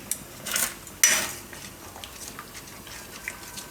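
A spoon stirring thickening lasagna sauce boiling in a metal pot: two distinct scraping, clinking strokes against the pot near the start, then quieter faint clatter and bubbling, with no talking.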